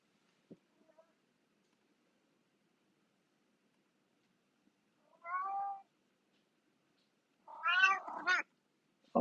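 A house cat meows up close in a quiet indoor room near a computer, two short meows a few seconds apart followed by a brief third sound at the end, with long silence before them.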